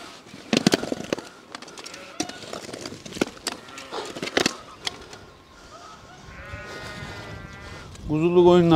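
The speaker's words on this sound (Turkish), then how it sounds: "Kuzulu koyunlar getiriyor." Sheep with lambs bleat at close range on a rainy mountain farm, with several loud calls in a row, scattered knocks and rustling, and a wavering bleat near the end.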